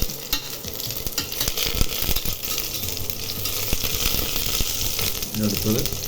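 Garlic and ginger fry in hot oil in a pan for cabbage momos, giving a steady close sizzle with scraping stirs, and a voice talks briefly over it.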